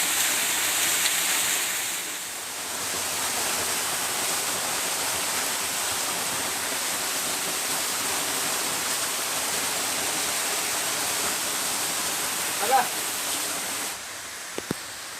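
Rushing water from a waterfall fills the scene with a steady, even roar, broad and constant from start to end, with no voices.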